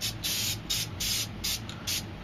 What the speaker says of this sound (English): I'm going to spray a little bit of white right here just to make the moon a little bit brighter.